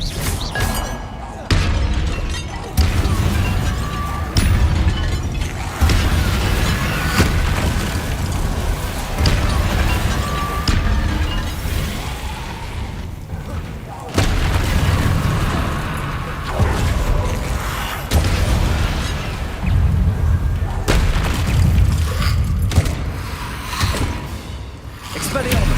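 Explosive spell blasts and crashing impacts from combat in the Hogwarts Legacy video game, loud and nearly continuous with repeated booming, shattering bursts over a dense game soundtrack.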